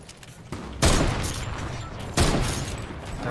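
Two heavy gunfire bursts in the battle royale game Fortnite hit at roughly one-second and two-second marks. Each one is sharp and loud, with a long noisy decay, and no talk is heard over them.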